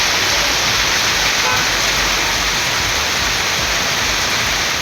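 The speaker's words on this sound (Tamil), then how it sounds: "திருச்சி மாநகரில் பல்வேறு இடங்களில் 1 மணி நேரத்திற்கு மேலாக மழை பெய்தது." Heavy rain falling in the Tiruchirappalli area, a dense, loud hiss of downpour that stays constant and unbroken, close and filling the scene.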